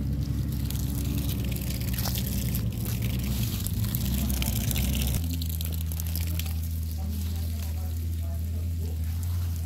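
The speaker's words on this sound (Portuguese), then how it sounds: "Agora eu vou estar molhando aqui." Water splashes and patters steadily onto the soil of a vegetable garden bed for several seconds, a continuous hissing spray that changes character partway through as the stream shifts.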